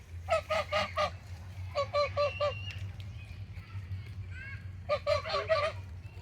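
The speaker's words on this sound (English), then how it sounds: "These are noisy geese." Geese honk loudly at Mudchute Farm in rapid rhythmic bursts, three clusters of repeated harsh calls close by, with quieter gaps between.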